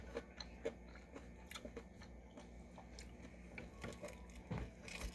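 Close, crisp crunching as someone bites and chews firm, crunchy ripe jackfruit, irregular soft bites and mouth sounds at low level over a faint room background.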